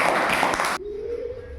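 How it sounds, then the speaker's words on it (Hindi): Classroom of fourth-grade Hindi students clapping together on request, a dense burst of hand claps lasting under a second that cuts off abruptly into quiet room tone. "एक बार ताली बजा दो"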